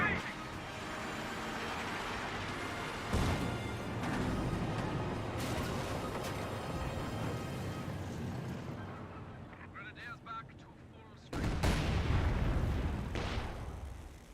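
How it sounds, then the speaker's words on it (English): A mine detonates in Company of Heroes 2, a World War II strategy game, amid ongoing battle noise: a sudden loud, sharp blast near the end that stands out from constant rumbling gunfire and distant booms. A commentator talks throughout. "Mine detonation."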